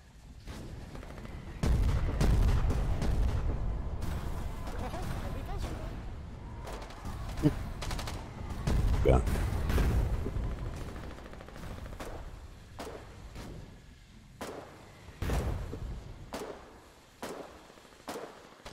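Gunfire in the war video game Foxhole, with sharp repeated shots and bursts of automatic fire spread irregularly across a busy battle soundscape, some loud and near, others fainter, with voices talking over the fighting.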